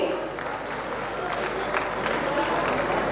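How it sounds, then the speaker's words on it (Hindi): Crowd applause at a public welcome event in Sanganer, thick continuous clapping at steady loudness from start to end, with crowd noise and some talk blended underneath. "सभी की तरफ से जोरदार तालियां एक बार मिलनी चाहिए।"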